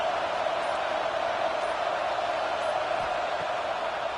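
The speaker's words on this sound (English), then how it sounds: "listen to this crowd noise. This stadium is vibrating." Stadium crowd at a College Football 26 game, Ohio State at Michigan, a dense continuous roar of many voices, loud and unbroken with no distinct individual sounds.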